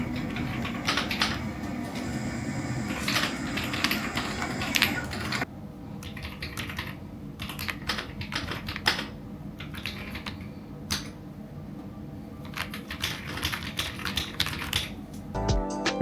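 Steady typing on a Noir Timeless 1800 keyboard, keys clacking in dense continuous runs for the whole stretch, close and clear, with a slightly quieter, sparser patch in the middle.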